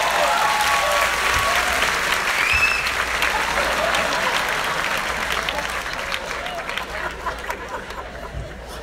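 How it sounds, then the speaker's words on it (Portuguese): Audience applause at a stand-up comedy show, loud dense clapping with scattered chatter and a few chuckles that gradually thins and fades toward the end. "Palmas pro PowerPoint!"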